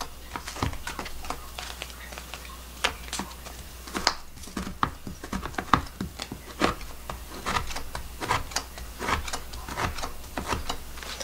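Green onion, partly frozen, chopped with a knife on a cutting board: a steady series of crisp, close taps in an uneven rhythm, each cut sharp and brief, with no talking.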